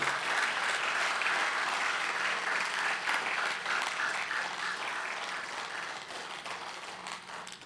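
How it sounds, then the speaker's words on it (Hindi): A large congregation at a live Shrimad Bhagwat Katha gathering in Raipur claps loudly and continuously, a full, even roar of applause that slowly fades over several seconds. "जोरदार ताली एक बार भगवान के दरबार में बजाइए।"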